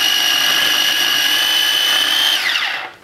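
An electric food chopper chopping pineapple and mango gives a loud, steady, high motor whine, then quickly spins down and goes quiet.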